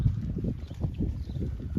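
Brahman beefalo cattle, grass-fed, running across a pasture, their hooves drumming in a rapid uneven rhythm of soft low thuds at moderate distance, with no voices.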